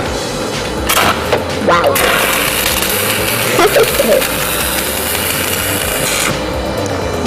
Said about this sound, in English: With the stick welding process, this is a simple welding.